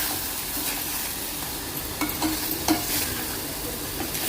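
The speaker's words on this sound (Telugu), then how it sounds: "అంతా కలిసేలాగా మసాలా అంతా కలుపుకోవాలి." A spoon stirs masala through basmati rice in a hot pan for bagara rice, giving a close, continuous scraping and soft sizzling with a few louder scrapes.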